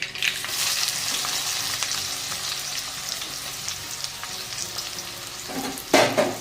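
Chopped onion fries in a pan with a continuous crackling sizzle as it is stirred, and a louder scraping clatter of the spoon comes near the end.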